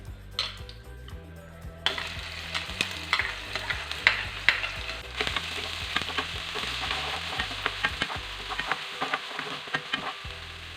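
Loud, steady sizzling of ginger garlic paste frying in hot oil, with a spoon scraping and stirring in bursts against the pan.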